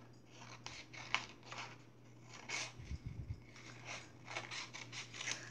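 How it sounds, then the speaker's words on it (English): Scissors snip through paper while a rocket-ship design is cut out in an art lesson: a quiet, close run of short crisp cuts and paper rustles with no talking. "I like to move around the paper and keep my scissors straight when I cut."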